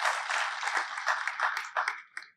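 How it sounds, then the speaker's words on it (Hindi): An audience at a Mahatma Basaveshwar Jayanti gathering claps steadily and loudly for a couple of seconds, then the applause thins into a few scattered claps. "सभी ने तालियों के साथ उन दोनों का अभिनंदन करना चाहिए"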